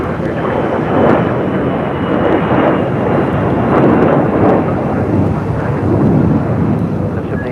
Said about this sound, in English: China Eastern Airlines Flight 583 coming from Shanghai in this 777 at 300